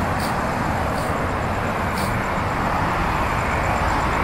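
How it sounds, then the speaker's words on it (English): Cars drive past a parked semi-trailer rig on a roadway, a loud continuous rush of traffic noise with faint rhythmic high ticks, no voices over it. "Let these cars go by."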